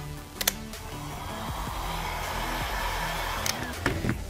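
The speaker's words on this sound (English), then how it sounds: "the way that we do that is by using a heat gun" A heat gun warms the glued back cover of a Samsung Galaxy S10E during a screen repair, giving a steady, close blowing hiss with a few faint clicks and taps around it.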